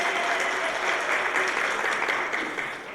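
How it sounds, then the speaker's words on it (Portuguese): Steady crowd applause, loud and sustained, many hands clapping without pause for a few seconds. "Palmas, palmas mais uma vez"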